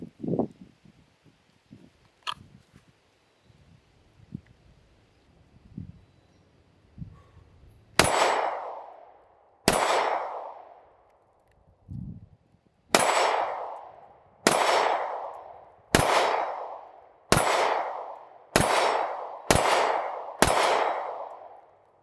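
A firearm being broken in fires about ten loud, sharp shots at an outdoor range, spaced a second or two apart with ringing decay, after a stretch of quiet handling clicks and shuffling.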